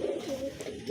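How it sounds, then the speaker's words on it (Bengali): Pigeons cooing close by, a male calling repeatedly to a female in courtship; steady, continuous low throaty coos with no talk. "দেখেন মাদিটা আমি নরের সামনে দিয়েছি, নটটা কি পরিমাণ ডাকাডাকি করতেছে।"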